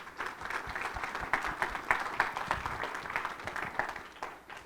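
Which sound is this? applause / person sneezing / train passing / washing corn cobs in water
applause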